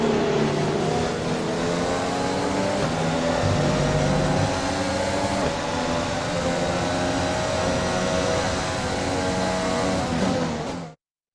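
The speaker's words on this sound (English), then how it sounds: "Here's our winner, pulling their Ferrari into Parc Fermé." A Ferrari Formula 1 car in the F1 2020 racing game at Circuit Zandvoort drones steadily as it rolls slowly into parc fermé after the Dutch Grand Prix, a loud continuous engine tone that cuts off abruptly at the end.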